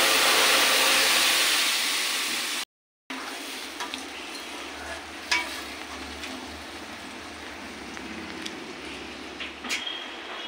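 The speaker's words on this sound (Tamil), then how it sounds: "இப்போ அரைச்சி வச்ச பேஸ்ட்டை இதில் ஊற்றிக்கலாம்." Ground masala paste poured into whole spices such as fennel and cloves tempered in hot sesame oil for chicken gravy, a loud bright sizzle that cuts out briefly, then quieter bubbling and scattered stirring clinks.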